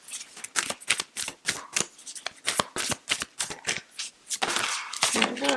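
Oracle cards from a Yogic Path deck are shuffled in a rapid run of crisp, papery riffles and slaps, close and fairly loud, ending in a longer sliding rustle as a card is drawn.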